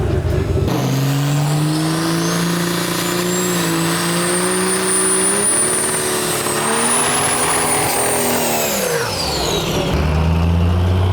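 A 1957 Ford F100 pickup with a Cummins diesel engine idles loudly and close at a drag strip. Its steady engine drone slowly climbs and then drops away as it pulls up to the line, with no talking.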